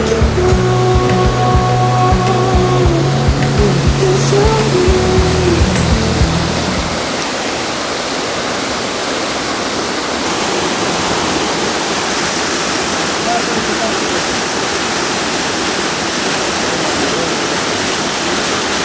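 A waterfall in the Anina Mountains Natural Reserve roars as a loud, steady broadband rush; for the first few seconds other tonal sounds sit over it before the water noise continues alone.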